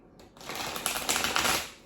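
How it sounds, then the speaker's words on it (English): Playing cards being shuffled by hand indoors, a close riffling burst of crisp paper flutter lasting just over a second, alone without talk. "What if we got you smaller ones and I can teach you how to shuffle now?"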